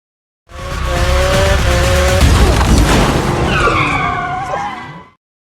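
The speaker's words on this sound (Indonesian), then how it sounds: "Tiba-tiba sebuah mobil melintas di depan Ormond. Well, dia kehilangan kendali." A car loses control and skids, tires squealing loudly for several seconds with shifting screeches and a rough rumble underneath, fading out at the end.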